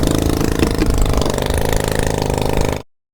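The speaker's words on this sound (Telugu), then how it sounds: "మనం ట్రాక్టర్ ట్యాంకులో కలిపిన బలం మందుని పొలంలో ఇలా ట్రాక్టర్తో స్ప్రే చేస్తారండి" A tractor engine runs steadily as a tractor-mounted automatic sprayer sprays a strength-boosting mix across a crop field, holding a close, constant drone for almost three seconds before cutting off abruptly.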